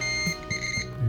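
Steady electronic beeping tone from a continuity tester checking a guitar switch, sustained and fairly loud, with a few brief clicks and low taps underneath; no voices.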